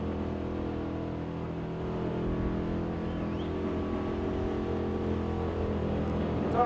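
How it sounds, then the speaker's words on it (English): The 350 cubic inch engine of a Ford Capri drones steadily during a burnout at a Summernats event, heard from a distance and rising slightly in loudness partway through. "he has given that a serious little rev"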